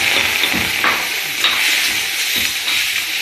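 Onion and tomato frying together in a pan for a chutney, giving a continuous loud hiss with a few soft stirring scrapes and no voices.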